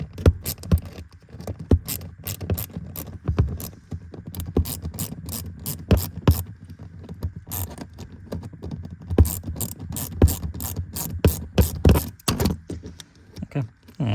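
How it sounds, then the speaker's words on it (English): A 7mm ratchet clicks in quick bursts while loosening a fastener at the front 12-volt accessory fuse area of a Cadillac XT5, sharp close metallic ticks in uneven runs with brief pauses between strokes. "take our 7mm tool and go ahead and loosen it up"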